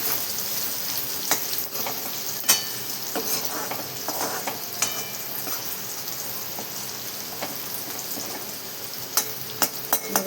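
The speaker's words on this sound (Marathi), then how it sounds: "बघा सगळे मसाले मी छान असे मस्त परतून घेतलेले यामध्ये बटाट्यामध्ये." Potatoes sautéing with turmeric and spices in a pan, a loud steady sizzle with scattered clinks of a spoon scraping and stirring over about ten seconds, no speech.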